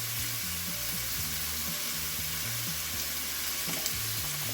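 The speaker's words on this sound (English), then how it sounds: "I'll start by frying 1 pound of hamburger" Ground beef, one pound of hamburger, sizzles steadily in a pan, a continuous frying hiss with occasional stirring scrapes, close and moderately loud with no talking.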